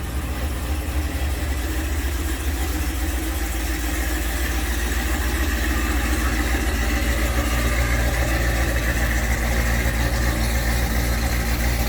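Cadillac CTS-V with an LT4 engine idling after a transmission rebuild, a deep, steady rumble with a low throbbing note, close and unbroken, with no voices.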